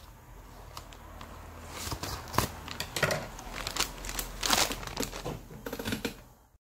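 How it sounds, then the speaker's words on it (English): Cutting open a plastic package that holds an Amcrest HD PTZ IP camera: close, quiet crinkling and crackling of plastic with sharp little snips and rustles, and no talking. "So I'm just going to cut it across here."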